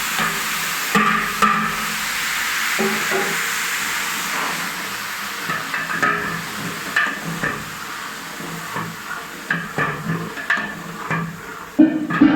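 Tomatoes tipped into browned masala frying in a large pot for a big batch of chole, giving a soft sizzle with intermittent scraping and stirring knocks from a spoon against the pan.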